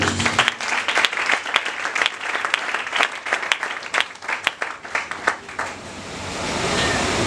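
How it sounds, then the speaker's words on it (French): A church congregation claps and cheers in praise, dense overlapping applause with sharp hand claps standing out, steady and close, tapering into a softer wash of noise at the end. "Acclamons pour le Seigneur"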